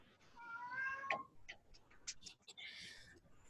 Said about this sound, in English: is that the cat meowing?